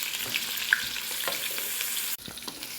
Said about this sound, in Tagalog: Lutuin lang natin at caramelize ang ating onion.